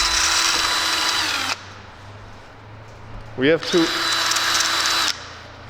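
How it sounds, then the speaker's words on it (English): A power drill boring holes into a Nissan 400Z body for a spoiler whines loudly and steadily in two bursts, close up, with a short spoken word between them. "We're just gonna drill 4 holes real quick and it should fit on."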